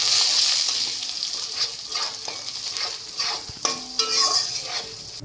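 Lentils for khichdi sizzle steadily in a hot pan, frying until reddish, a continuous frying hiss with stirring scrapes and a few clinks of utensils.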